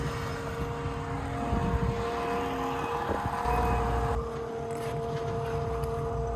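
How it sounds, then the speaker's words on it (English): A Milwaukee transfer pump runs steadily, pumping gear oil with a continuous motor hum and tonal whine close by, its texture shifting slightly partway through. "Does the Milwaukee transfer pump gear oil?"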